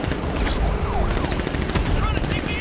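Dense video game gunfire from Batman Arkham Knight, a loud continuous burst of rapid shots and impacts under shouted in-game voices.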